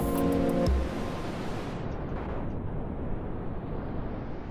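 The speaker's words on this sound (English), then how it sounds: "Got an explosion going on somewhere here." A broad roaring blast from a jet-and-missile battle in a video game, a sustained deep rumbling wash that follows a brief tonal sound and stays loud to the end.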